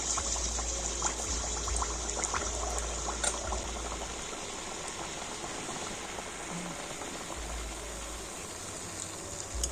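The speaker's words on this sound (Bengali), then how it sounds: "আর সেই তেলের মধ্যে এই নাস্তাগুলো ভেজে নিতে হবে" Coconut snacks deep-frying in medium-hot white oil in a kadai make a steady, dense bubbling sizzle that runs evenly throughout, fairly close and continuous with no voices.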